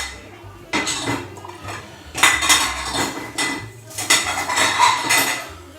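Dishes and cutlery clatter and clink repeatedly in irregular bursts, close by, as items are loaded into a dishwasher rack.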